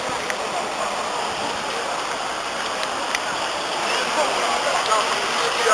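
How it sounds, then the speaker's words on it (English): Heavy rain pours in a dense, steady hiss, with occasional sharper drops, growing slightly louder toward the end. "Rain's still pouring."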